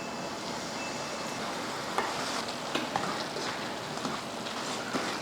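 Chicken pickle being stirred in a pan with lemon juice added off the heat, a steady soft sizzle and scraping throughout with a few light spoon knocks, no talking.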